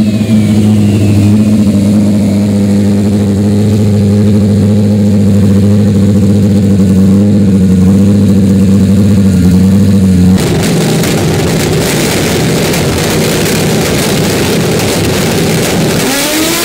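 Loud, continuous nitro drag bike engine roar, over 700 horsepower, with a deep droning hum that abruptly shifts into harsher, broadband revving and rumble, with no talking.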